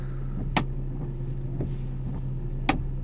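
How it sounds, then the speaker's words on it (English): Windshield wipers on a 2001 Saab 9-3 convertible sweep with two distinct thumps about two seconds apart over a steady low engine hum inside the car. "Wipers work in all positions."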